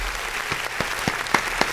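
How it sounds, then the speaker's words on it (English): A few scattered hand claps, about half a dozen, sound irregularly over a low room hum during a wrestling podcast, brief and thin rather than a full crowd ovation. "Round of applause."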